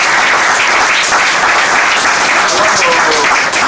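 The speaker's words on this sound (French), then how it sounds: "Est-ce que vous pouvez vous applaudir d'abord pour vous?" Audience applause at a political communicators' gathering in French, a dense, steady wash of many hands clapping, loud and sustained throughout without a break.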